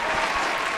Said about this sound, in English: round of applause all around.